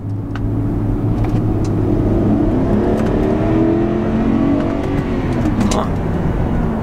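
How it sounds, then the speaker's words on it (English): A Mercedes-Benz GL450 SUV accelerates from inside the cabin, its engine rising in a smooth steady drone with a climbing whir and faint wind noise, loud and continuous. "let's hit that gas and see how it goes."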